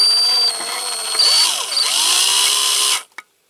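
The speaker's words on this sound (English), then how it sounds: "I just started off with this little drill" A small electric drill bores into a die-cast Dinky Toys ABC TV van, its steady high whine running close and loud for about three seconds, dipping and rising as the bit bites, then cutting off.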